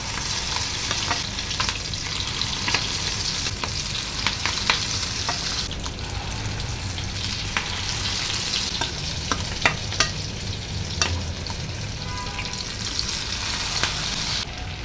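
Fish roe kofta frying in a pan of oil, a steady close sizzle with occasional light scrapes and ticks of a spoon, continuing without any talk.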